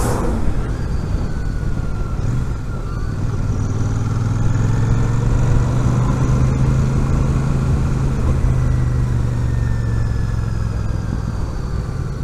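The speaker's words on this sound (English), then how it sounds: "Nice little pop out the exhaust." Royal Enfield Super Meteor 650 motorcycle on the road, its twin-cylinder engine droning steadily with a low exhaust note and a faint pop, close and continuous with wind noise and no talk.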